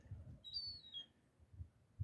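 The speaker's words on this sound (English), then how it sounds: "Another one squawking up on the roof there." A seagull calls from up on a roof, giving one brief high whistling squawk over low rumbling background noise, fairly faint and distant.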